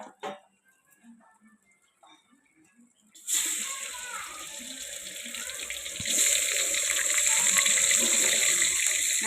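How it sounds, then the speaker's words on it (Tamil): Quail meat washed in water with turmeric powder and rock salt, a steady close rush of running water and sloshing that swells halfway through, with a brief voice at the start before the water begins. "நல்லா மஞ்சள் தூள் கல் உப்பு போட்டு வாஷ் பண்ணிட்டுருக்கோம்"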